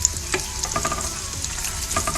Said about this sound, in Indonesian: Kita tumis hingga harum